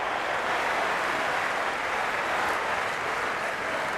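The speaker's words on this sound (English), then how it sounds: "It's evident and ever so audible that the crowd is at near bursting point at today's play" Packed cricket stadium crowd roaring during an India versus Pakistan T20 match, a loud, continuous wall of cheering and clapping that holds steady with no break.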